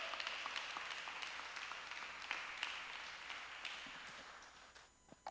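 A church congregation applauds steadily, a dense wash of many hands clapping that holds for several seconds before thinning and fading out at the end.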